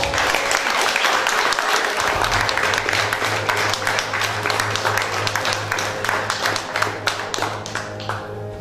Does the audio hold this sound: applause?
yes